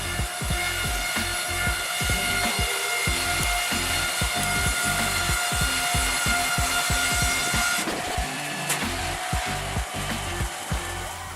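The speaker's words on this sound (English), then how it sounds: "The National Style MS661 saw can create smooth boards and slats with great precision from large poplar trees." A sawmill saw cuts large poplar logs into boards, giving a loud, steady grinding drone with rapid regular rasping pulses, and a brief shift in tone partway through as the cut changes.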